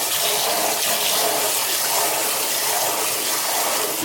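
Rice being rinsed in water in a kitchen, a steady rushing splash of running or swirling water that stays loud and constant throughout, with no talking.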